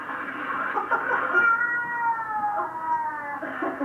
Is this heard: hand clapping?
no